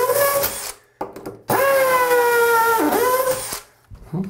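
A hammer drill whines loudly in two long bursts, its pitch steady and high, with a brief pause between them and a short stop at the end.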